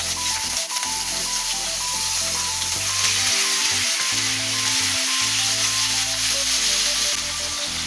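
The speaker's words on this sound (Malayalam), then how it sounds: "എണ്ണ നന്നായി ചൂടായിട്ടുണ്ട് നമുക്ക് ഇതിലേക്ക് ഈ ചെമ്മീൻ ഇട്ടിട്ട് ഒന്ന് ഷാലോ പോലെ ചെയ്ത്" Prawns shallow frying in hot oil give off a steady, loud sizzle and crackle that runs unbroken throughout, with occasional soft stirring scrapes and no voices.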